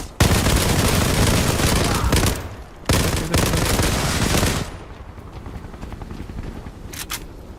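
Tommy gun fire in the online shooter Zula, a long loud sustained burst, a short pause, then another extended burst that fades into scattered softer shots and a couple of brief cracks near the end.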